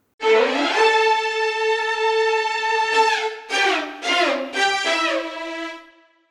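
A sustained string chord run holds, then several short downward-sliding disco falls follow in quick succession, ringing clearly with no voices.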